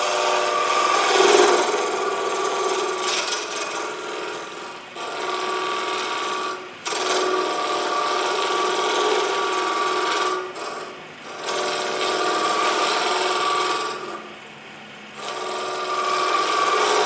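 Lathe turning of a Fordite ring, with a steady rasping, scraping cut against the spinning car-paint layers, loud and continuous with a few brief pauses as the tool lifts off.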